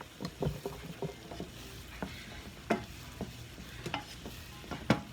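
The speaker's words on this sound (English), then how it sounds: "Now that corn is still frying. Y'all see that? It's still frying." Corn sizzles and crackles in a pan with scattered pops and scraping stirs, a close, busy hiss without any talking.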